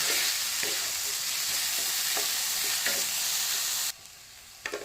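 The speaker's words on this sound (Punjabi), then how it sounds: "ਟਮਾਟਰ ਤੇ ਅਦਰਕ ਇਹਨਾਂ ਨੂੰ ਵੀ ਤੁਸੀਂ ਇੱਕ ਜਾਂ 2 ਮਿੰਟ ਪਕਾ ਲੈਣਾ ਹੈ" Tomato and ginger cook in a hot pan, giving a steady, close sizzle with a few stirring scrapes. The frying cuts off abruptly near the end, leaving near-quiet with a couple of faint clinks.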